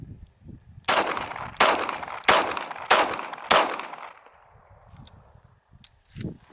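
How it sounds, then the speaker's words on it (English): Five pistol shots of 95 grain jacketed hollow point rounds ring out at an even pace, each a loud close crack with a short echoing tail, followed by quieter outdoor rustling. "Shooting with Herder's 95 grain jacketed hollow point"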